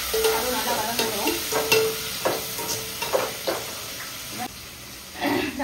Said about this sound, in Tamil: தக்காளி போட்டு நல்லா வதங்கணும்